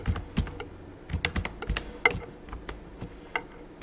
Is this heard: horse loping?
no